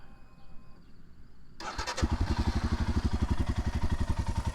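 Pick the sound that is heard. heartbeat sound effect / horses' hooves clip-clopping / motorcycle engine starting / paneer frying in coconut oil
motorcycle engine starting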